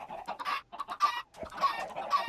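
Chickens cluck in a video game, a quick series of short, fairly loud squawking clucks in bursts with brief gaps, heard alone.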